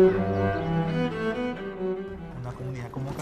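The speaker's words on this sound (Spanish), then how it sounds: "Este cello está hecho de una lata de aceite" A homemade cello built from an oil can, with tuning pegs made from an old meat-tenderizing spoon, played with sustained bowed notes that are warm, buzzy and slightly rough, close and alone, fading near the end.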